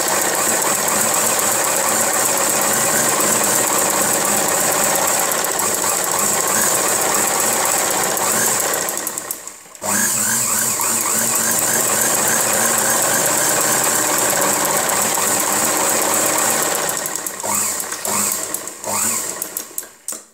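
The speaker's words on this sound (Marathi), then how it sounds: "दुसऱ्या साईडला पण डबल टिप मारून घेऊयात." A sewing machine runs steadily while double-stitching the seam on the second side of a salwar, a loud continuous mechanical whir with a brief pause near the middle and some stop-start stuttering near the end.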